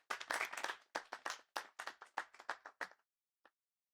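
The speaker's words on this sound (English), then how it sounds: "Please, you guys give him a round of applause." A small group applauds a boxing coach at a university boxing club gathering, with steady clapping for about three seconds that stops abruptly, followed by one faint isolated clap.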